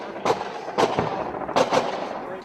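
Gunfire in a Hindi war film scene at a border, several sharp broadband bursts in an irregular pattern set against a continuous rumbling background, fairly loud and without speech.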